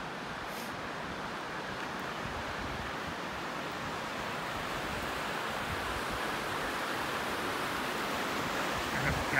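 A river flows past a campground near a railroad bridge, a steady broadband rush of water that stays even and moderately distant, with a faint breath of wind and no voices.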